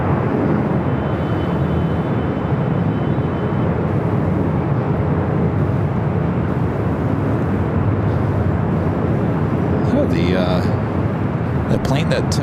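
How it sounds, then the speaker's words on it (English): A China Southern Cargo Boeing 777 freighter lands at LAX runway 25 left, its jet engines giving a loud, steady broadband roar throughout, with a voice briefly heard near the end. "we do the China Southern Cargo 777 freighter"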